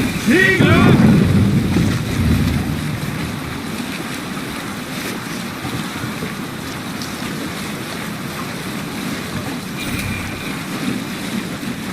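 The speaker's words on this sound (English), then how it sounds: "Set the mast up! Sail out!" Ocean surf and wind wash steadily around a sailing ship at sea in Assassin's Creed Valhalla, a brief voice-like burst and creaking near the start, then a continuous broad roar of waves and gusts with a faint splash near ten seconds.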